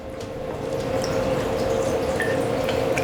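A cocktail for an Old Fashioned is poured over a big ice cube in a rocks glass, a steady close liquid trickle and splash running through the whole moment.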